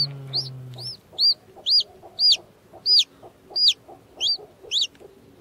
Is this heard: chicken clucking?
yes